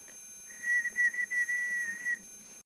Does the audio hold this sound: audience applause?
no